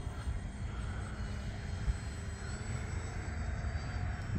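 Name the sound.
E-flite Valiant RC airplane flying past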